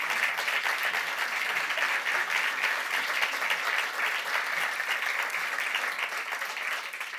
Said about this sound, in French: je vous demande d'applaudir Agnès Maltais, Marie-Ève Duchesne et Christine Saint-Pierre